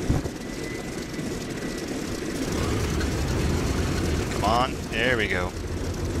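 Aircraft engine starting up in the IL-2 Sturmovik flight simulator, a rough droning engine noise that rises and settles into a steady run while someone talks briefly over it.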